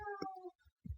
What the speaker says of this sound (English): I've got a cat complaining